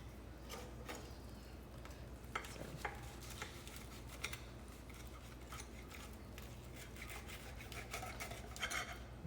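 Crispy veggie quesadilla being cut, quiet scattered crunches and knife taps on a plate in a small kitchen, faint and close with no talk.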